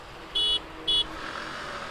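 Two short, bright scooter horn beeps from a TVS Ntorq or Suzuki Access 125 sound close by, one after another, over a low engine hum.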